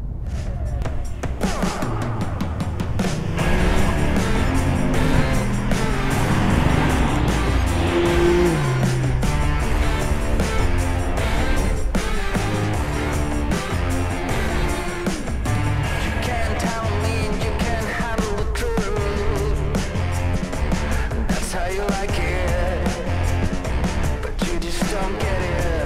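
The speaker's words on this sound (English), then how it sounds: "And the exhaust sounds great." A 2019 Kia Stinger GT2 RWD twin-turbo V6 sedan roars continuously at close range, with rising and falling revs and a throaty exhaust note, no pauses throughout.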